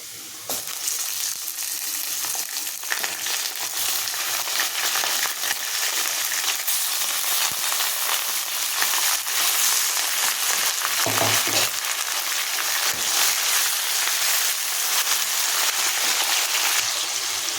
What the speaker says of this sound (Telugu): చూడండి, ఇప్పుడు చికెన్ పీసెస్ వేస్తున్నానండి నేను